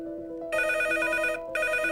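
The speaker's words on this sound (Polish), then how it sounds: "Jest telefon" Telephone ringing during a television call-in show, a close, loud electronic bell ring in two bursts with a short gap, with no talk.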